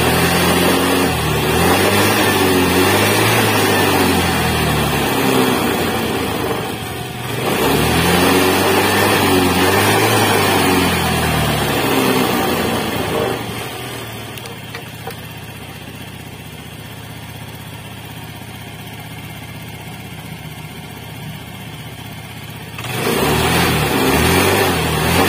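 A motorcycle engine, just fitted with a new regulator rectifier, revs loudly in bursts with a steady idle between them, heard close up with no talking.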